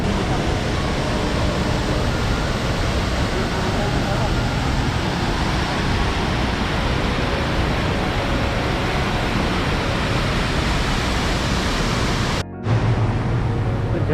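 Dudhsagar waterfall in Goa thunders as a constant, dense wash of rushing water, loud and unbroken, with a brief cut near the end.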